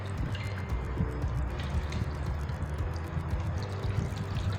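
Water pours steadily into a self-heating HaiDiLao tomato pork hot pot container, a continuous close splashing trickle with no talk.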